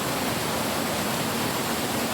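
Steady broadband rush of water flowing at Manimuthar dam, a constant close hiss with no breaks, heard alone without voices.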